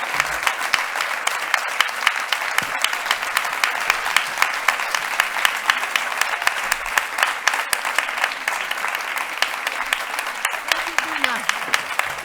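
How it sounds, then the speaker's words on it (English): A conference audience at a round table on peace and conflicts gives sustained applause after a speech, a steady wash of clapping with sharper individual claps cutting through, moderately loud, with a brief voice near the end. "Great applause."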